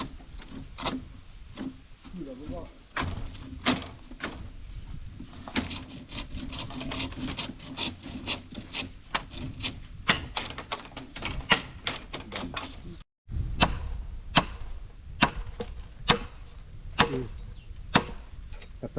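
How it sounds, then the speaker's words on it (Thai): Holes are cut into wooden beams for a traditional Karen house, giving a long run of sharp, rhythmic wooden knocks and raspy strikes, close by, with a brief pause partway through. "ผมก็ได้ทำกันเจาะรูเสร็จแล้วนะครับ"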